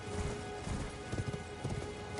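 Horse hooves clip-clop at a steady riding gait in Elden Ring, several close, clear hoofbeats over a dense, noisy game soundscape.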